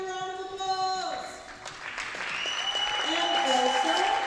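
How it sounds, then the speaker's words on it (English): Audience applause at a junior women's pistol shooting competition, a steady spread of clapping that swells over the clip while an announcer speaks over it. "Johanna, give her a round of applause."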